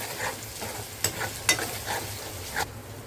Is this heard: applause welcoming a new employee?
no